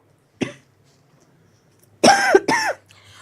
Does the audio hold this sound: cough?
yes